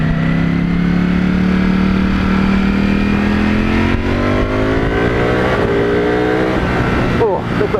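Ducati Panigale V4S sport bike ridden at speed, its engine note whining steadily and rising in pitch as it accelerates, loud and close with wind rush, ending with a brief burst of speech.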